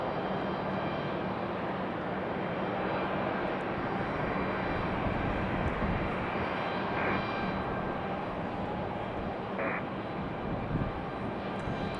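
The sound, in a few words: arriving airliner, Republic Airways E170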